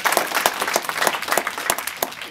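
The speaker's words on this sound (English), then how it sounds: "Give her another round of applause." An indoor audience at a civic association meeting claps briefly, a quick burst of scattered, moderately loud hand claps with no voices over it.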